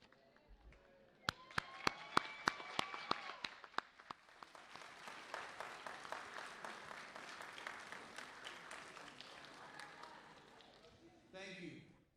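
Audience applause at a DAE graduation ceremony, starting with a few loud isolated claps that grow into steady crowd clapping with cheers, fading toward the end as a voice begins speaking.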